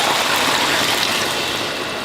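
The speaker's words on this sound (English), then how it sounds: "We're going to pour this broth over into here." Broth poured from a container into a cooking pot with carrots and onion for beef shank, a continuous close splashing and pouring rush that stays loud and steady throughout.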